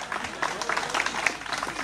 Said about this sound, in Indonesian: Tepuk tangan buat TFS